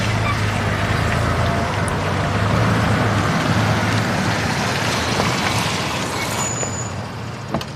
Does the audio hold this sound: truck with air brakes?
yes